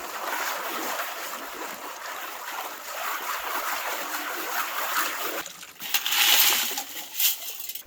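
A potato pan spinning a heavy load of sand and water for gold, producing a continuous gritty, watery rush that swells to louder sloshing and rattling bursts near the end.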